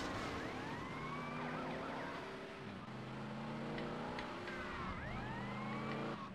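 A police siren in the game GTA Vice City Stories wails in repeated rising and falling sweeps over a low engine rumble, loud and continuous for the whole stretch, with no voices.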